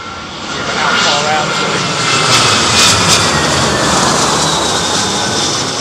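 British Airways airliner on final approach at Heathrow in stormy, windy weather, a steady roaring jet engine drone with gusting wind noise throughout, voices talking faintly beneath.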